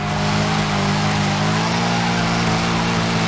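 A Lexus LC 500 in Forza Horizon 5 revs loudly and continuously, its engine note climbing steadily in pitch as it accelerates, close and dominant with no talk.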